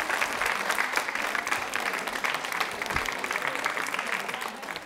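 An audience at a women's organisation quiz show event gives loud, sustained applause, a dense continuous wash of many hands clapping close by for several seconds.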